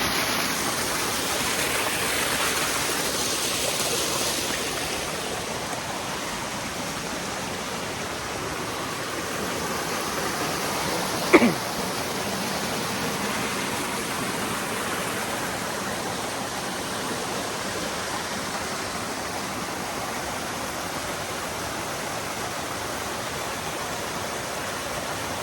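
A waterfall in Egmont National Park on Mount Taranaki, New Zealand, pours in a steady broadband roar that holds even throughout, with one brief sharp tap near the middle.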